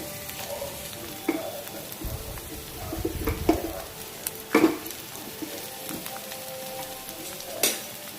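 Two onions are tipped into hot oil in a pan over a medium gas flame, giving a steady low sizzle with a few louder frying bursts and the occasional scrape or clink of a spoon against the pan.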